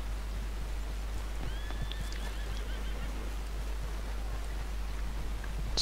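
A horse whinnies in the game Red Dead Redemption 2, giving one short neigh amid light outdoor ambience and a steady low hum.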